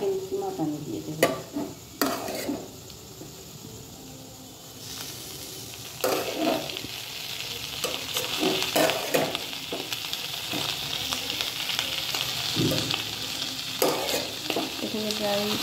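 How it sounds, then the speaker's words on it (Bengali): About 300 grams of chicken keema hits hot oil with fried potatoes for ghugni, giving a rising, steady sizzle after several sharp clanks of the spoon against the pan, stirred now and then. "এবার চিকেন কিমাটা আমি দিয়ে দেবো।"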